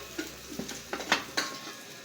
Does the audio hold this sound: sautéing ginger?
yes